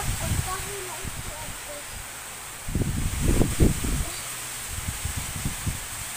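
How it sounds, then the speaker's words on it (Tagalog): Strong gusting wind in stormy, typhoon-like evening weather, a steady rush punctuated by louder buffeting bursts in the middle of the stretch, with a voice speaking faintly underneath. "Malakas ang hangin."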